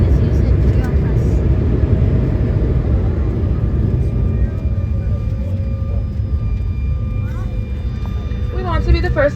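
An Embraer ERJ-175 jet touches down on the runway, a loud, steady roar of engine thrust and rumbling wheels heard from inside the cabin, slowly easing, with people talking over it.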